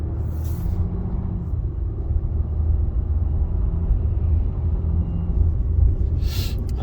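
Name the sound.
2022 Ram 3500 truck accelerating and shifting gears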